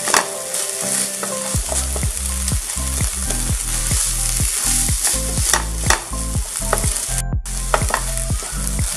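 A Maharashtrian green peas kachori filling with fennel and coriander is stirred in a hot pan, loud steady sizzling under rhythmic scraping strokes of a spatula, close and uninterrupted by talk.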